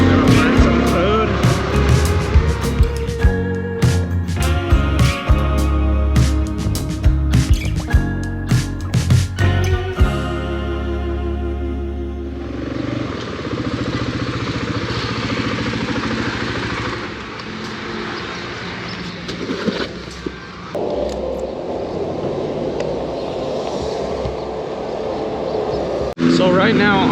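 Motorcycles riding in a group on the road in Guerrero, Mexico, a steady engine drone with wind rush, busier revving and road noise early, then a smoother continuous cruise; a voice talks over it.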